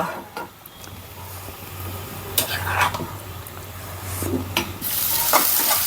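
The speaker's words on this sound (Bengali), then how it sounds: "কিন্তু শাকটা তেলে দিয়ে দিচ্ছি পেঁয়াজ রসুন শুকনো মরিচটা আগের থেকে ভেজে নিচ্ছি" Boiled malabar spinach greens with potato stirred into hot oil with fried onion, garlic and dried chili, a constant sizzle broken by repeated scraping stirs and utensil knocks, growing louder toward the end.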